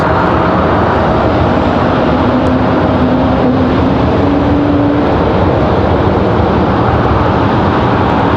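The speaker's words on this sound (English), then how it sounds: "can hear another A220 off in the distance" An Airbus A220 jet airliner's engines roaring continuously from afar, a broad, steady rumble that holds without pause or voices.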